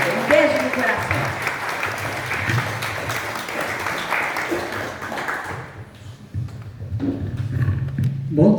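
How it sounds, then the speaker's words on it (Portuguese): Audience applause at the opening session of a conference, a dense wash of clapping filling most of the stretch before fading out, after which voices and room sounds carry on. "Uma salva de palmas a vocês e uma salva de palmas à conferência"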